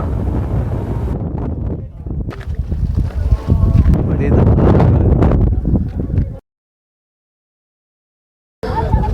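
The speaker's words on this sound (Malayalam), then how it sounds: "നല്ല കാറ്റുള്ളത് കൊണ്ട് ഇവിടെ വല്ലാതെ ചൂട് അനുഭവപ്പെടുന്നില്ല" Strong wind buffets the microphone on the hilltop at Saur Cave, a loud continuous roar and rumble for about six seconds, then a sudden silence before the gusting resumes.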